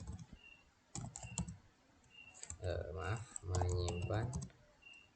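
Keys clatter on a computer keyboard as a file name is typed, quick bursts of clicking under a person talking.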